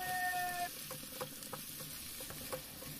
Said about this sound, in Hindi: हम इसके अंदर आलू डाल देंगे और इसके साथ ही डालेंगे आधा चम्मच हल्दी पाउडर और स्वाद के अनुसार नमक डालेंगे और इनको अच्छे से मिक्स कर लेंगे